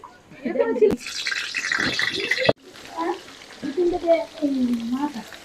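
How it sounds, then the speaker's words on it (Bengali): Oil heats and sizzles in a pan on a clay wood-fired stove before mutton curry is cooked, a steady close frying hiss with a sharp clank partway through and someone talking over it. "প্রথমে আমরা তেলটা বেজে"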